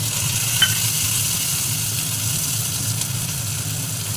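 Chopped onion and tomato frying in a pan for jackfruit curry, a steady close hiss and sizzle held at an even level, with a low hum underneath and no talking.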